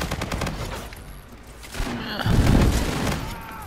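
Gunfire in a shooter video game, a burst of rapid shots and a heavy booming impact near the end, loud and close, with a voice talking briefly over it.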